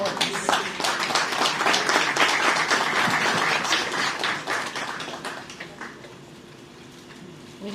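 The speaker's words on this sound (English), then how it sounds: "let's give another round of applause for all our awards" An award ceremony audience applauds: dense, fairly loud clapping from a roomful of people that holds steady for several seconds, then gradually thins and fades toward the end.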